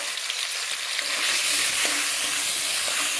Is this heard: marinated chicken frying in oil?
yes